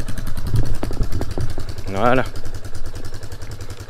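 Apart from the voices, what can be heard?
RFX 250 enduro motorcycle engine starting and idling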